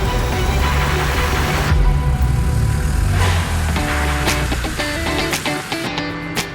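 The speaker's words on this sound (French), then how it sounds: "Là, on va accélérer un petit peu pour ne pas rester embourbé." An off-road vehicle revs its engine to push through mud on a rough off-road course. The steady, loud, mid-pitched drone shifts as the throttle rises, with rattles and clunks from the terrain.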